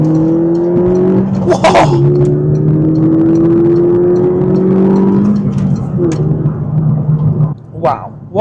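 A little £1600 car accelerates hard and drives off on a lap of the Ring, its engine note climbing and holding in steady rising tones heard loud from inside, with a brief excited exclamation from an occupant.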